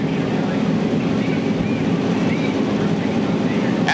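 IndyCar race car engines roar at Road America during a 1992 race start, a dense, continuous broadband drone that stays loud and steady throughout, with wind-like noise layered on top.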